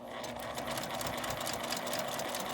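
A sewing machine stitches fabric for a lined, panelled zipper pouch, giving a steady, continuous mechanical whir that runs close and evenly throughout with no pauses.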